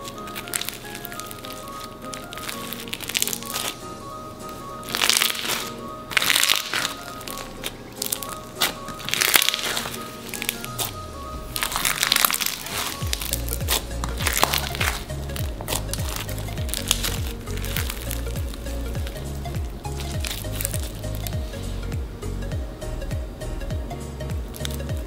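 Crunchy slime is squeezed and squished close up, giving dense, repeated crackling and popping snaps, loud and alone with no talk.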